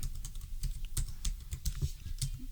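Quick, steady typing on a computer keyboard while entering data in an Excel spreadsheet, with close, crisp key clicks at an even pace and no speech.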